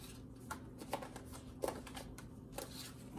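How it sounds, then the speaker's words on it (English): Tarot cards shuffled and flipped in a steady run of soft papery riffles and light snaps, close by and fairly quiet, with no talking. "Oh my gosh, a ton of cards flipped."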